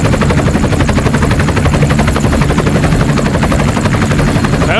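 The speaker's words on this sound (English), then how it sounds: "Helicopter." Helicopter rotor chopping steadily and loudly, a rapid continuous thudding beat layered with a turbine whine, close and unbroken throughout.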